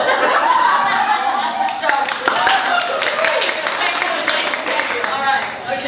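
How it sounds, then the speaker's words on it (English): Scattered clapping and chuckling from a few people seated around a dining table, loose and uneven, with talking mixed over it throughout. "I don't believe we got a round of applause."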